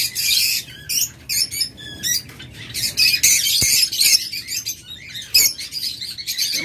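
Many caged pet birds, including lovebirds, budgerigars and cockatiels, chirp and squawk together in a dense, busy chorus. The calls are loud and close, with rapid overlapping tweets and no voices.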